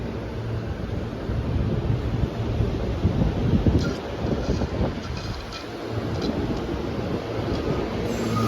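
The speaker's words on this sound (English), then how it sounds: "Train coming all the way from New York City." A long-distance passenger train from New York City rolls past at Trenton, giving a steady, moderately loud rumble of wheels and cars with faint squeals, alone without talk.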